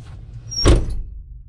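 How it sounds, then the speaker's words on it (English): A Jeep Wrangler TJ door shuts with a single solid thud, close and loud, over a low idle-like rumble that fades afterward. "I'm going to shut the door. Light should go off."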